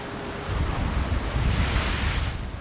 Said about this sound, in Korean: 이젠 서 있기조차 쉽지 않을 정도로 파도가 심하게 일는